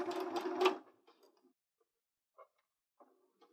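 A sewing machine stitches the front and lining of a clear 3D face mask together in one short, close burst of motor whir, then falls quiet except for a few faint ticks.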